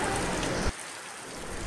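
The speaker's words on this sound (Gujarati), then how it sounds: "ધોધમાર કમોસમી વરસાદ ખાબકી રહ્યો છે" Heavy unseasonal rain falls steadily in a village area of Gir Somnath district, a dense, even hiss of downpour that briefly thickens before settling into a continuous wash of falling water.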